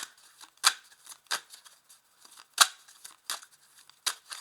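A Tarot de Marseille deck being handled and cut by hand, with about seven crisp, close card snaps and flicks separated by short quiet pauses.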